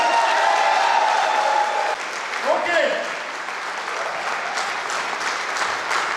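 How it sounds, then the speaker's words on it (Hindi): Loud, sustained applause from an audience at a live performance, dense clapping filling the whole stretch with crowd noise mixed in and no break. "आप लोग कम से कम जोरदार ताली तो बजाइए"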